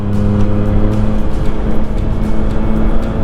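A Triumph Street Triple 660 S motorcycle fitted with an SC Project exhaust roars loudly and steadily at close range, a dense throaty engine note with a brief higher tone at the start that drops away, heard alone.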